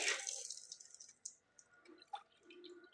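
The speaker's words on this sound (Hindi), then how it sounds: "ये 2 प्याली पानी कढ़ाई में डाल देंगे।" Two cups of water are poured into a kadai to start sugar syrup: a loud splashing gush at the start that quickly tapers into softer trickles and a few scattered drips.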